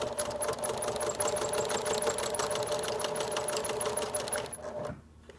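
A sewing machine stitches fabric for a face mask close to the edge, running in a fast, steady, close whir with a rapid needle rhythm, then stopping abruptly near the end.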